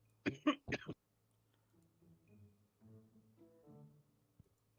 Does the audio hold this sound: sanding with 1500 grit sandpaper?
no